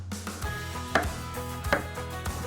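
Peeled garlic is chopped into large pieces with a knife on a board. Three or four distinct, evenly spaced close thwacks sound over a low background hum.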